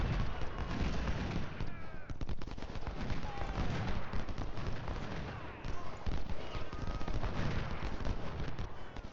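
Rapid, dense gunfire crackles continuously from revolvers in the Civil War strategy game Ultimate General Civil War, a loud battle din of overlapping shots with faint talk beneath.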